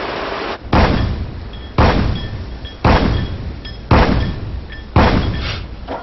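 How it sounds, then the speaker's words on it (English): A US Navy 76 mm naval cannon fires five times at roughly one-second intervals, each booming blast followed by a rumbling decay. "the 76 millimeter cannon, firing 120 rounds per minute"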